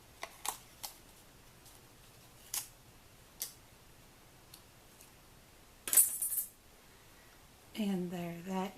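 Scissors snip through the bottom border of a handmade paper Christmas nativity gift tag, a few sharp close cuts scattered across the moment, with a brief voice near the end.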